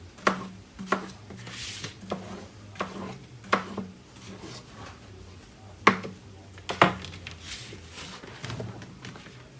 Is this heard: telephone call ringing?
no